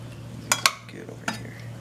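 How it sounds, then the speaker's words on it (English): Dishes and cutlery clink briefly as butter-garlic new potatoes with parsley are plated beside chicken piccata with artichokes: two sharp close clinks, then a softer third, over a steady kitchen hum. "I'm just going to plate it up over here."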